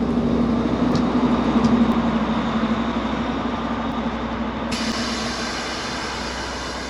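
A train runs through snowy winter conditions with a steady rumbling roar and a faint tonal whine, continuous and fairly close, with no talk.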